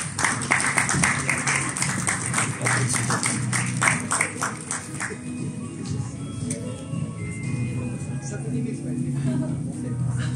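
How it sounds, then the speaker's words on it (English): Audience applause at a foldable smartphone launch event, dense clapping for about five seconds that thins into scattered claps and room noise. "Let's give them a warm round of applause,"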